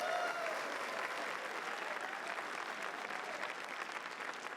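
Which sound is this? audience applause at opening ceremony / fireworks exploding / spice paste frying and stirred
audience applause at opening ceremony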